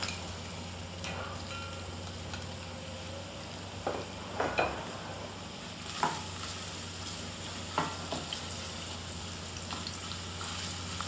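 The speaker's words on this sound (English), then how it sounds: "I already have the sesame oil in the pot. I'm going to add the garlic and the ginger." Garlic and ginger sauté in sesame oil in a pot, a soft steady sizzle with occasional scraping stirs and light clicks of a utensil, heard alone.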